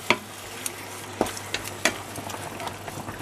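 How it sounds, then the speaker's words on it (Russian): Spinach and eggs frying in a pan give a soft, steady sizzling hiss broken by a few scattered crackles and pops, heard close with no speech. "И жарим до готовности"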